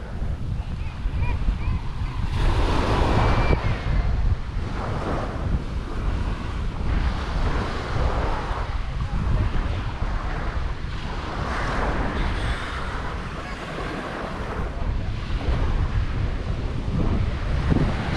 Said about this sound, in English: Sorry about the wind, but we actually have a good breeze today